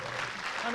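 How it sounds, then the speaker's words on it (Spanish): A brief burst of audience applause at a talk on video game cultural practices, moderately loud, with voices mixed into the clapping. "Un aplauso muy fuerte para Manuela Calvo."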